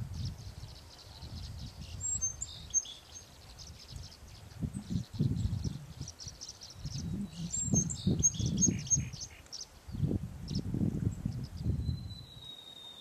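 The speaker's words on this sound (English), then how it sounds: "A lot of tree swallows, red-winged blackbirds." Tree swallows and red-winged blackbirds call outdoors in a steady scatter of high chirps and twitters, moderately distant, over low rumbling background noise that comes and goes.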